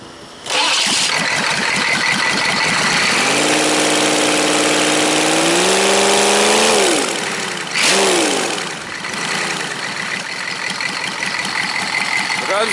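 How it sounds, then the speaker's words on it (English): A rebuilt diesel engine converted from 6.2L to 6.5L starts up and revs hard to high RPM, a loud, close mechanical roar that rises, holds, drops and settles back into a steady idle. "Runs very smooth. It's a perfect engine."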